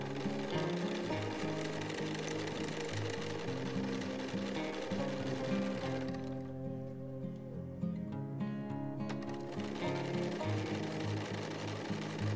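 Sewing machine stitching quilted fabric with batting under an even-feed walking foot, a steady close mechanical hum and rapid stitch rhythm running throughout with a brief lighter stretch midway.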